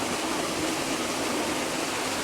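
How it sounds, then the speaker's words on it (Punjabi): A small waterfall in Punjab rushes with a steady, dense wash of falling water, close and continuous with no talk over it. "ਦੇਖੋ ਤਾਂ ਇਹ ਛੋਟਾ ਜਿਹਾ ਝਰਨਾ ਹੈ"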